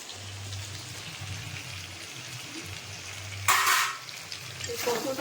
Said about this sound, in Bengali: মাংস তো আমার কষানো হয়ে গেছে এবার ভেজে রাখা কচুটা আমি দিয়ে দেবো